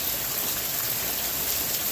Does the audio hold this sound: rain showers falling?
yes